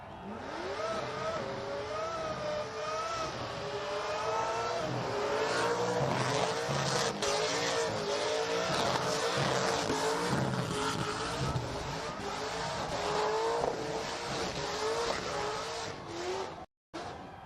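A street machine's engine revs hard and holds high while tires squeal continuously in a sustained burnout on a burnout pad at a car show, loud and close, cutting out briefly near the end.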